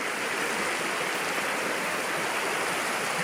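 Doe Tor Brook, a Dartmoor moorland stream near old tin workings, rushes in a steady, close, dense wash of flowing water with no breaks and no voices.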